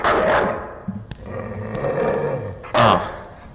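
A dog wearing a man's mask growls and barks in the horror video game Night People, a loud, rough, sustained snarl with a sharp outburst near the end.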